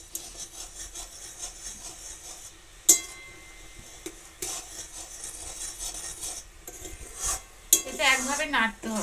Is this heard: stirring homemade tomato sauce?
yes